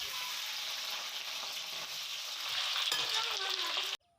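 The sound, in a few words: potatoes frying in oil in a kadai for pork gravy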